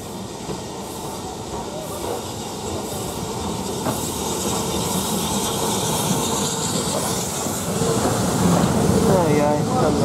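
BR Standard 4 steam locomotive 76079 coming into Pickering station, a continuous rumbling, hissing roll with rail clatter that grows slightly louder as it nears, steady throughout with no break.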